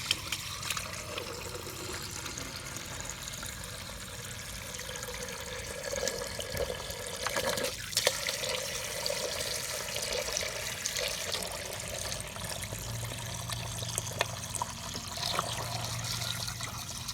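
Water from a garden hose running steadily into a saltwater pool pump to prime it, a continuous close splashing trickle with no talk.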